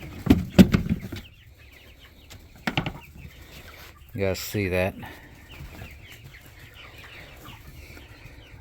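Homestead chickens gather at a gravity feeder built from a tote fitted with 3.5-inch 90-degree street elbows. They give a few sharp clucks and squawks with brief wing flapping, and someone speaks briefly over them.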